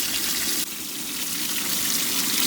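Water gushes steadily through a DIY 300 micron pond filter sieve at about 12,000 litres per hour, a loud, continuous close rushing and splashing with no talk.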